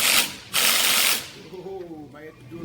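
A ratchet wrench works loose bolts on a fifth wheel hitch, giving two short bursts of rapid clicking close up, followed by quieter mechanical rattling.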